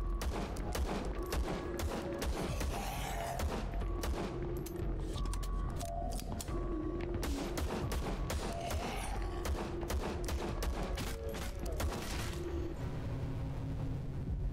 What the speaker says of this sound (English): And this is normal pistol.